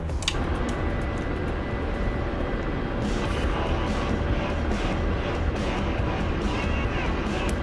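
An Apache helicopter hovering in a flight simulator game, a steady, loud, dense engine and rotor roar with a constant low rumble, unbroken throughout.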